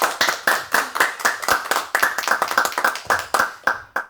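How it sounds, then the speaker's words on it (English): An audience at the TON Festival claps to welcome a guest onstage: a brisk, fairly close round of sharp individual hand claps in uneven bursts, without voices. "Round of applause."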